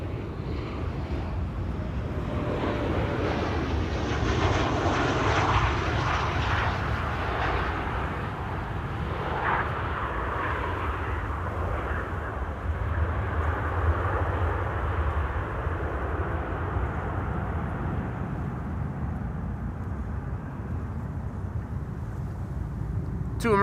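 A nine-year-old Boeing 737-800 at Amsterdam Schiphol makes a sustained jet roar that swells and shifts in pitch across more than twenty seconds, moderately distant and unaccompanied by talk.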